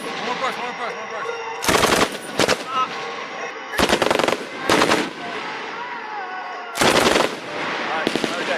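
An M249 SAW machine gun fires in several short, loud bursts of rapid shots, separated by pauses, with a continuous background rumble and distant shouted commands between the bursts.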